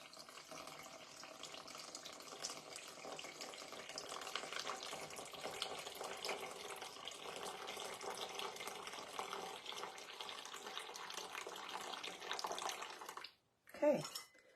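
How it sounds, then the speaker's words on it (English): Steady stream of tap water pouring into a bowl for about thirteen seconds, broadband and continuous, then stopping abruptly with a brief clunk. "we're going to add 350 grams of water, and it's just straight up tap water"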